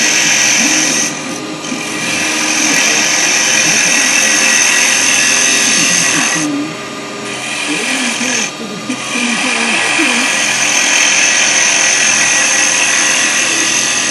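Wood turning on a lathe with a carbide chisel cutting the spinning workpiece, a steady loud whirring hiss that briefly dips twice, with someone talking over it.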